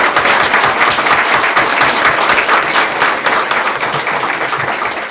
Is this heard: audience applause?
yes